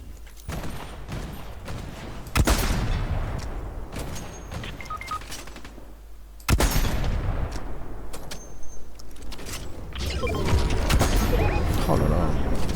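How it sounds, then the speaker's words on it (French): Gunfire in a Fortnite match rings out in sharp bursts and single loud reports, some distant, over a game soundscape while a player talks. "C'est où que ça tire?"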